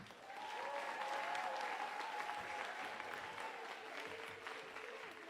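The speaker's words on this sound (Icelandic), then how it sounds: "Gefum Stapaskóla ennþá betra klapp." A school talent-festival audience claps for a performing school, a broad, steady swell of applause that rises quickly and holds evenly, heard from a distance and rather faint, with a few faint voices underneath.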